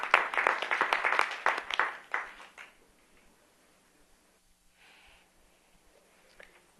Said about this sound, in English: I just have to give them a round of applause.